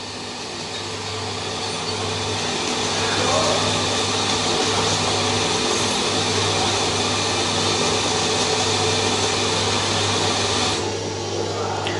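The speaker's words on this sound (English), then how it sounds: "So we press the running switch and machine will be running." A YFM C1360Z tape machine runs with a steady, loud mechanical whir and hum that holds for the whole stretch, with a low tonal drone underneath and a brief change near the end.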